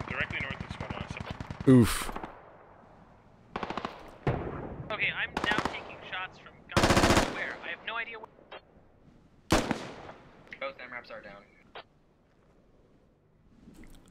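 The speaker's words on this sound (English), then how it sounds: "Jacko 800 actually taking shots at Pony here from this ridge" Gunfire in the tactical shooter game Squad, with sharp single shots and short bursts rattling out at irregular intervals amid a vehicle-heavy battle, some loud and near, others fainter, while someone talks at the start and exclaims once.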